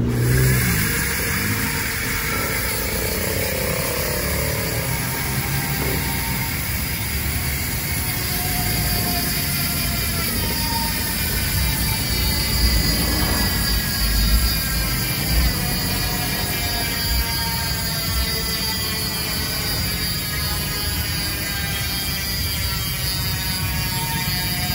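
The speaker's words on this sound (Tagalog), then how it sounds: "Ayan, sound check tayo sa Speed 1 Sniper na hubs." Busy street traffic with passing car engines and a constant hum fills the scene, loud and continuous, while a Speed 1 Sniper bicycle hub is being checked, its ticking not clearly standing out.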